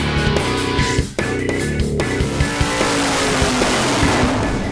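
Big Block Chevy 572 engine with RHS Pro Elite heads running, a loud, rough, lopey rumble with repeated sharp pops and bursts, a brief dip near the start, then a steadily climbing tone.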